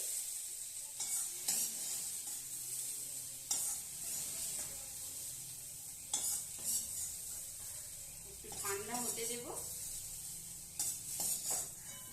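A spoon or spatula stirs a jackfruit chop mixture in a kadai, giving intermittent scraping and rustling strokes in short bursts over a faint hiss, close by and without speech.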